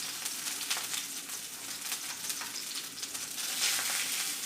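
Tuna steak searing in a hot pan while being cooked through to medium gives off a continuous, fairly quiet crackling sizzle with fine pops throughout.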